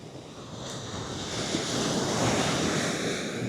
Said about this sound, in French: elle est déchaînée la mer, elle veut quoi